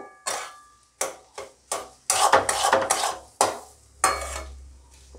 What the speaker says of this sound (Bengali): বাড়িতে বানিয়েছিলাম সেই মশলা এভাবে সাঁতলিয়ে নিয়ে একটু ভালো করে মশলাগুলো আলুর সাথে মিশে যাবে